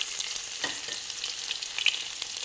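Garlic and cumin frying in hot oil: a close, continuous crackling sizzle with a few light spoon taps, brief and fairly quiet, no talking.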